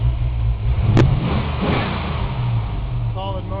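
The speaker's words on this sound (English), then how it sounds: "Give you a little rev." A 1992 Ford Mustang hatchback's 5.0 V8 with a Trick Flow stage 1 cam and solid motor mounts revs up close by, a steady throaty engine drone with one brief rise, while a person talks over it.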